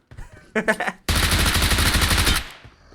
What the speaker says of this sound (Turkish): Adam gitti bota sıktı arkadaşlar.